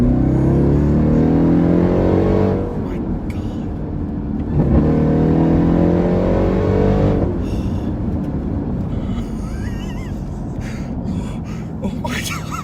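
A Jeep Trackhawk SUV accelerates hard, a loud deep engine roar heard from inside the cabin that rises in pitch through gear changes, followed by road noise and a gasping reaction from the occupant.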